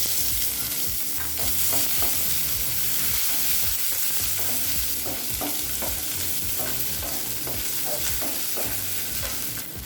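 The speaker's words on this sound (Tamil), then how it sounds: "ஸ்லோலே வச்சு மிளகாய் கலர் மாறாத மாதிரி நல்லா வதக்கிக்கோங்க." Chillies and onion sautéing in a pan for Mysore bonda chutney, a continuous loud sizzle broken by repeated scraping and stirring strokes of a utensil, with no talking.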